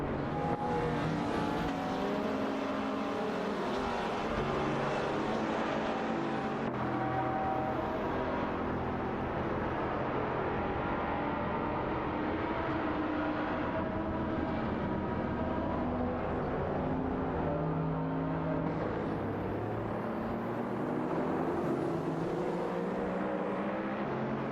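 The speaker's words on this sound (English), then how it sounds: "Racing car dashing the way" Race cars in an AI racing video game roar continuously at close range, engines droning and revving as several cars pass, with no talk over the steady engine noise.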